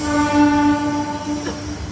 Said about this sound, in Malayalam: ട്രെയിൻ ഇതാ സാബർമതി BG റെയിൽവേ സ്റ്റേഷനിലേക്ക് എത്തുകയാണ്.